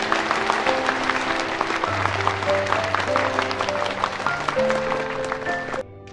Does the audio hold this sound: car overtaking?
no